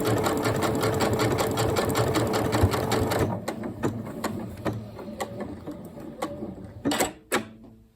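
Janome Horizon Memory Craft 9480 QC sewing machine stitching with its tapering function, a fast steady mechanical chatter for about three seconds that then slows into sparse, irregular clicks and a couple of louder knocks.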